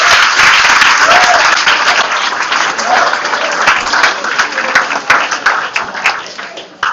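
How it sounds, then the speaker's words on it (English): A crowd claps in loud sustained applause at a high school football championship banquet, gradually thinning into scattered claps, with a few voices faintly underneath. "Let's give Dana a big round of applause."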